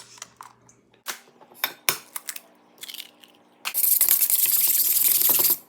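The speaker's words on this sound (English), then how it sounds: "crack your egg, 2 eggs for this recipe" Two eggs are cracked for banana bread French toast: a few sharp taps and cracks, then a burst of liquid pouring into a bowl, close and clear with no talking.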